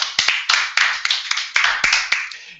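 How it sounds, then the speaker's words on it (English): Short round of applause for coaches, a few hands clapping in a quick uneven rhythm of sharp claps, close and brief, no speech. "Round of applause for the Scratch coaches."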